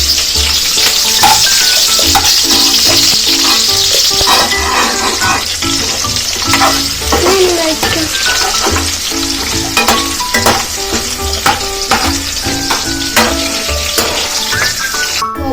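Onions sizzle and fry in a hot pan for a chicken curry, a loud, dense crackle that runs without a break, with occasional scrapes and stirring clatter from a utensil against the pan.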